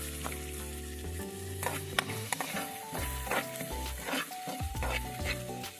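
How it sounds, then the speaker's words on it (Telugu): Eggplant (vankaya) fries fast in a pan with a steady loud sizzle, while a spoon stirs and scrapes in quick strokes over a busy, layered bed of sound; no one speaks. "అంటే ఇలాగ ఫాస్ట్గా ఇలాగ ఫ్రై చేసేసుకోవాలి"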